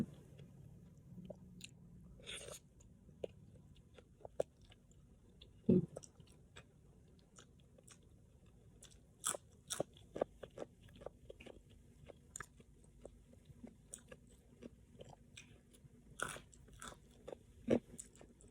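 Crunchy raw vegetables are chewed up close, served with a spicy canned fish salad, giving quiet repeated crisp bites and crunches spread irregularly through a near-silent background.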